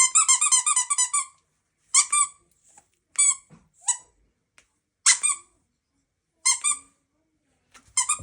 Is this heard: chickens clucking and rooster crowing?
no